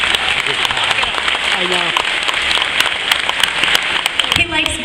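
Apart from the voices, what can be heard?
audience applause at graduation speech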